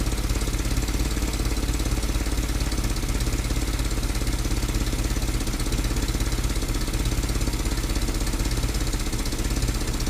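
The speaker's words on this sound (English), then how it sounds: "She is idling better there though" A Ford GPW jeep engine idles steadily close by, its low chugging rhythm constant and unbroken throughout, with no voices.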